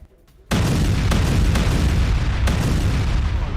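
Buried IED charges tear through a Hamas tunnel network in Gaza with a sudden, heavy blast. After half a second of quiet, a loud, sustained roar of rumbling debris follows and never lets up.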